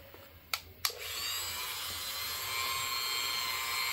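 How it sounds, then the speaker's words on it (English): A power drill bores into a polymer clay bead. Two sharp clicks come first, then a steady close whirring hum that grows slightly louder. "And then obviously we're going to grab our drill."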